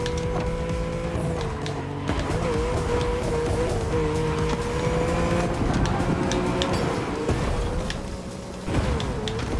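Race car engines drone steadily with a rising and falling pitch in The Crew Motorfest, a Porsche 911 among them, over continuous road and tire noise; the sound stays loud and busy throughout, with no talk.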